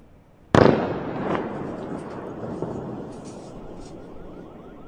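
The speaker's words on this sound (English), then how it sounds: "We just heard explosions in Beirut." Explosions in Beirut heard from a distance: one sharp, loud boom cracks out and rolls into a long, fading rumble, with a smaller thud following soon after.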